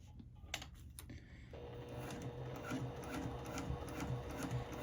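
A sewing machine stitches fabric for a small pocket pouch, running with a steady fast mechanical whir and ticking rhythm after a few hesitant starts, close and fairly quiet, with no voices.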